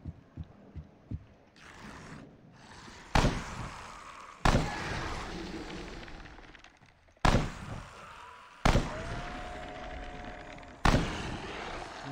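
Rifle shots fired in the zombie survival shooter Dead Frontier 2, five sharp loud reports spaced a couple of seconds apart, each with a short decaying tail over low in-game ambience.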